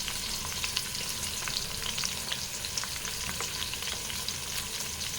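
Curry leaves crackle and sizzle in hot oil for a Telugu-style prawn curry, a steady close frying hiss with scattered sharp pops throughout and no voices.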